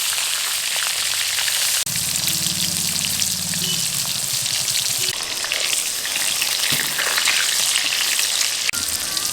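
Pointed gourd coated in salt and turmeric fries in hot mustard oil in a wok, giving a loud, constant crackling sizzle with some turning and scraping and a low hum for a few seconds.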